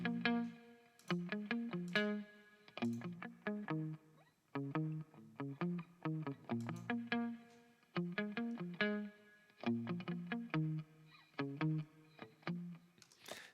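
An electric guitar plays short riffs through FabFilter Saturn 2 on a British pop amp setting, with a shimmering chorus-like effect, phrases separated by brief pauses.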